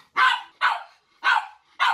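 A dog barks excitedly just before going out for a walk: four loud, close barks in an even rhythm with short silences between them and no talking.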